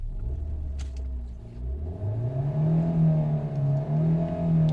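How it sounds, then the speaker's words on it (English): A Hyundai Alcazar 2.0L petrol SUV engine idles with a low rumble, then revs up smoothly and holds at a higher pitch before settling, close by and with no talking. "Let me rev the vehicle once."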